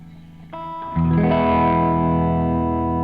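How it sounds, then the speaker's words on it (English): An electric guitar chord rings out through a Keeley Zoma reverb pedal, steps up louder, then sustains with a wide, washy reverb tail. "Let's try this reverb."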